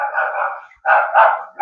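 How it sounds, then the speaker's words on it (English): A dog barks close by, giving a few loud, sustained barks and yelps in quick succession, heard alone with no talking. "Sorry about my dog."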